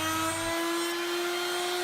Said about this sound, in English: Here I am using a router table with a rail and stile router bit set